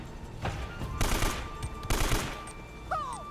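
AK rifle gunfire in Uncharted: Drake's Fortune, a couple of loud close bursts of rapid shots with scattered single cracks between them, and a brief voice-like sound at the end.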